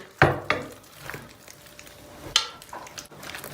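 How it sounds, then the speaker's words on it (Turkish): Cooked pasta tipped from a pot into an oiled glass baking dish, giving a few close, soft wet slaps and clatters with short pauses, and a louder splat near the end. "Makarnanın tamamını döküyoruz."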